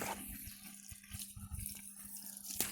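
Steady running well water splashes at low volume, a continuous trickling wash with a few small knocks near the end.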